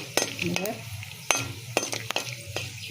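Spice paste hits hot oil already holding cardamom, cloves and dried red chillies, sizzling steadily while a spoon stirs and clinks against the pan.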